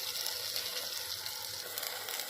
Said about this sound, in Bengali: এরপর আমি ভেন্ডিগুলোকে নুন হলুদ দিয়ে ভেজে নেব।